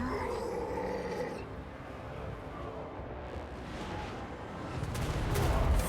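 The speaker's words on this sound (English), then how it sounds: "I'm getting bombarded from all sides here." Total War: Warhammer 3 battle bombardment, a dense continuous roar of explosions, clashing and crowd noise, loud and chaotic throughout and swelling toward the end.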